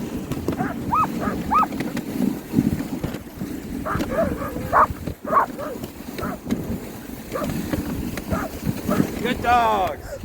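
Sled dogs in Skagway, Alaska bark and yip in scattered, excited bursts with wind noise, while people talk and call out nearby throughout.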